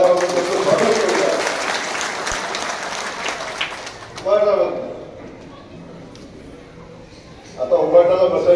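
An audience claps to welcome new members joining a BJP party gathering, with loud sustained applause at the start that fades into a speaker's voice, then another burst of clapping rising near the end.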